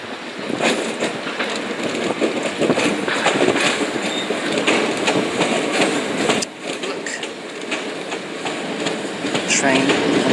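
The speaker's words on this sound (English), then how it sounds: "377-706 bound for Milton Keynes Central comes into view here." A Class 377 electric train bound for Milton Keynes Central rolls into Willesden Junction, a loud, steady roar with rhythmic wheel clatter over the rails and a brief dip partway through, heard close up.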